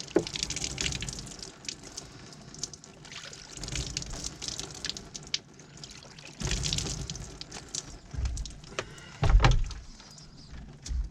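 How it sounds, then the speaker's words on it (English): Freshly cleaned trout rinsed under running water outdoors, uneven splashing and trickling close by with pauses and a few louder gushes and knocks. "I'll just wash it off real good"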